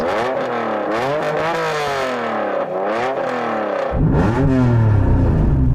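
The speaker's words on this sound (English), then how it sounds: "so I'm going to rev up this Honda NSX" The engine of a Honda NSX sports car revs hard again and again, each rise climbing to a high wail and falling back. It is loud and close, with a deeper, heavier rev surging near the end.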